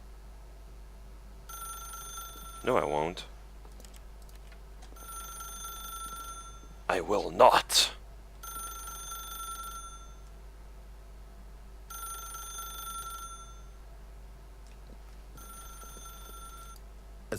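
A telephone ringing in the video game The Stanley Parable, repeated evenly spaced electronic rings through the whole stretch, with someone speaking briefly between them.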